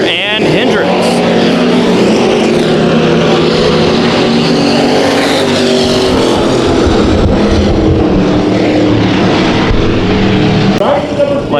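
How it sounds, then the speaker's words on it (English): IMCA stock cars roar around Bakersfield Speedway on the final lap of a race, a loud continuous engine drone that swells and fades as cars pass, with an announcer talking over it. "Final lap in the first of 2 IMCA stock car races."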